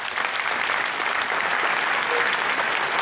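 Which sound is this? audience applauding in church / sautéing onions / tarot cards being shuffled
audience applauding in church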